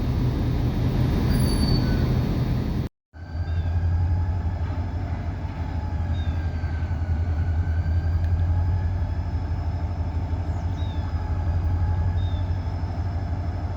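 A short model train rolls along its rails with a steady low rumble, a brief total dropout early on, then continuous running where thin, high wheel squeals come and go above the drone, with no talking.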